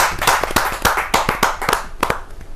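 Audience members at a Hindi poetry gathering clap to welcome a poet. Individual hand claps ring out sharply and close, arriving in an uneven, fairly brisk series rather than a merged roar.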